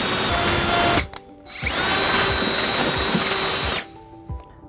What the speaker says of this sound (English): we're going to have to drill that